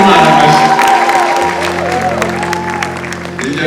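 Audience applause at a church celebration, loud clapping and some cheering mixed with sustained musical tones and a voice rising over the crowd.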